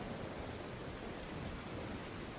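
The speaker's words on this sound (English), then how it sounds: "unloading some stuff while it's raining" Steady rain falls in the video game DayZ, a dense, even hiss of downpour that holds at a constant level throughout with no voices.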